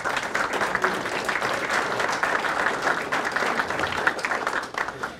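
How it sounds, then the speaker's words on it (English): Audience applause at the 52nd Greater Meadville Area Day dinner, a steady roomful of clapping hands that holds at an even level for about five seconds with no voices on top. "So a round of applause for Bonnie."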